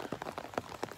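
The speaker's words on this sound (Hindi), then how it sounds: "अभी बारिश हो रही है तो बाहर थोड़ी निकलेंगे।" Rain falling in a village, soft patters of drops landing on a surface in an irregular rhythm, close and fairly quiet.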